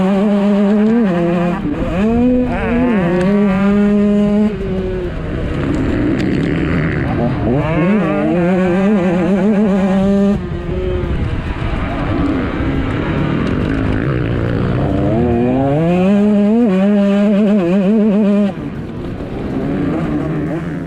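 From onboard a 2025 KTM 125 SX two-stroke motocross bike, the engine screams loud and close, its pitch repeatedly climbing through the revs, dropping at each shift or throttle-off, then rising again.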